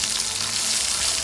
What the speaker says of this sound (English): Nice frying fish them.